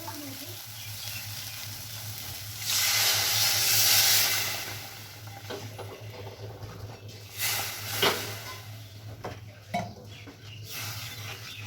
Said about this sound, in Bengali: এবার এর মধ্যে দিয়ে দেবো 1 বাটি পরিমাণ জল।